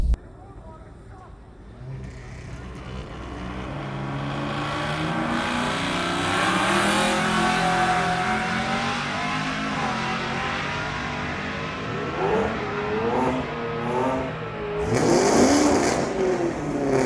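A VW Golf MK7.5 with a Precision Stage 1 turbocharger accelerates hard down a drag strip, engine rising loudly through the gears with audible shifts, recorded from inside the car while people speak briefly.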